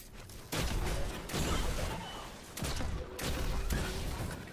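Pistol gunfire in Destiny 2: loud, broadband shots in several bursts, sustained stretches of rapid firing separated by brief pauses, up close and dominating the mix.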